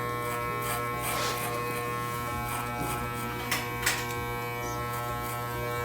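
Electric hair clippers buzz steadily at close range during a home haircut, with a constant motor hum and a few light clicks and rustles as hair is scooped away.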